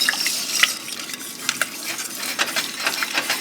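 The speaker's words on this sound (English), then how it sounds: "I saw you stood back when you started to stir because it can slosh, right?" A spoon stirs homemade enchilada sauce in a pot, giving soft scraping and sloshing strokes with small clinks against the metal, steady and close throughout with no voices.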